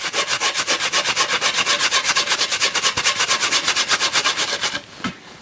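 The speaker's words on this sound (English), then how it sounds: "sand it from 120 grit all the way down to 600" Sandpaper from 120 to 600 grit rubs along a handmade wooden bow in fast, even back-and-forth strokes that hiss steadily for several seconds, then stop with a faint knock.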